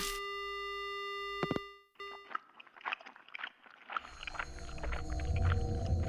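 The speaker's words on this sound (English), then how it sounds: "The only sound I hear is the dial tone." A steady electronic telephone dial tone from the video game Death Mark hums alone, cuts off abruptly, and gives way to quiet clicks and a low rumbling ambience.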